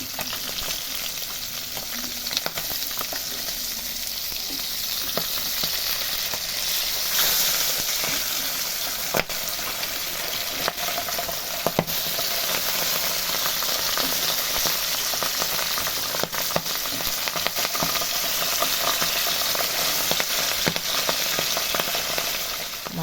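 Pabda fish frying in hot oil in a wok, a steady, dense sizzle that holds close and even throughout, with faint scrapes of stirring now and then and no voices.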